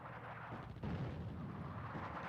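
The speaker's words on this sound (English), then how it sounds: "It looks like they are attacking my own troops with artillery as I move across the open" Artillery fire in the wargame Attack At Dawn: North Africa, a dense continuous rumble of distant booming barrages that rolls on without a break and swells louder partway through.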